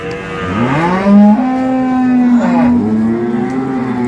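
A dairy cow at a cattle market in Dinajpur gives one long, loud, close moo with a rising and falling harmonic tone, followed by a shorter second call.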